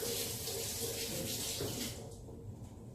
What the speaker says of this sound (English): I'm just going to come over here and just rinse this off for a minute